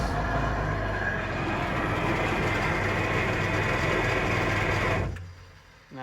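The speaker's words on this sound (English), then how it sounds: "We'll give it a couple revs after shutting the water off." A Yamaha FX SHO jet ski engine, with a Haltech Elite setup, revs hard with the cooling water shut off. The roar is loud, steady and close, holds for about five seconds, then cuts off abruptly.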